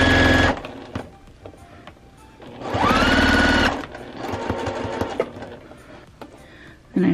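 A longarm quilting machine stitches a T-shirt quilt in a loud, steady, close whirring burst, then fabric is handled quietly before softer stitching resumes, ending on another short burst.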